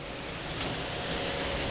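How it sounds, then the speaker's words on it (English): Strong wind blows steadily outside a waterfront mansion, a broad continuous rushing roar with gusty buffeting against the microphone, no voices present. "it's still very windy."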